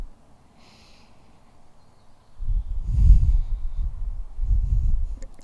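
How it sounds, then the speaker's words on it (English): Deep breathing in a yoga forward fold: a few slow, close, breathy exhales rise after a quiet start, one snort-like breath among them, with no talk. "taking a deep breath here"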